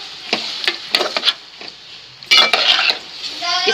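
Chillies and tomatoes fry in a pan for homemade pizza sauce, with a spoon clattering and scraping against the pan in quick bursts over a light sizzle.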